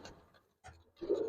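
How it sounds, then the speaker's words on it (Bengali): Giribaz and colored pigeons coo softly and close by in two or three short throaty bursts, the last one the fullest, with no voices over them. "কবুতর জোড়াটা নিয়ে পালতে পারেন"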